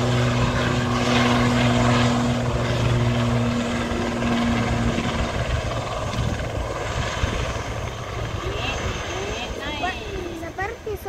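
Wings Air propeller airplane at Sultan Hasanuddin airport in Makassar drones with a steady mid-distance engine hum that gradually fades, while people chat nearby over it.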